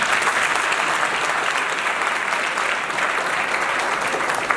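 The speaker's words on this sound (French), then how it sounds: "Applaudissez-moi." Applause from guests at a civil wedding ceremony in a town hall, steady and sustained clapping from a modest crowd throughout, with no voices over it.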